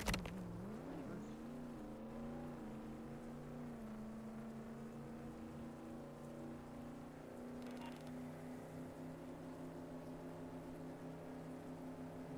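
Torero car in the Roblox game Jailbreak driving steadily, a continuous engine drone with a slight pitch rise at the start and a brief shift around the middle, loud and alone without talk.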